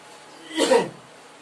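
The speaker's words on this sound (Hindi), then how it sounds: "खांसी आ जा रही है, थोड़ा सा जुकाम हो गया है।" A single short, breathy cough from a man with a cold sounds up close, alone against a quiet room.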